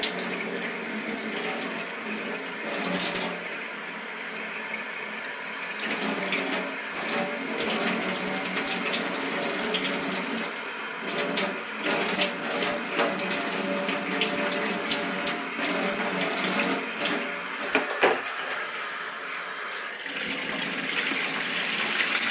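Warm water runs from a tap for washing leather boots before waxing, a steady, continuous gushing splash that lasts throughout with small fluctuations and no voices.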